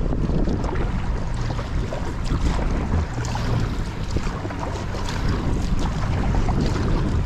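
A boat pushing through choppy waves in the Danube Delta, a steady close roar of churning water and heavy wind buffeting the microphone, running unbroken throughout with no voices.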